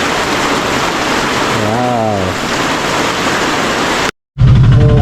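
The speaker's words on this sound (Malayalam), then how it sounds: "ഏതാണ്ട് അരമണിക്കൂറോളം നിന്ന് പെയ്ത് നല്ല കാറ്റുണ്ട്, നല്ല വലിയ വലിയ തുള്ളികൾ." Heavy rain with big drops and strong wind at night, a loud, steady roaring downpour, a voice briefly rising over it, then a sudden cut and a return of the rain with talk.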